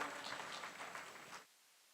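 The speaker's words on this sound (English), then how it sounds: "I want all the BNY students out there to give a big round of applause." Audience applause at a valedictory program, a short burst of steady clapping from a crowded hall that cuts off abruptly after about a second and a half, fairly faint.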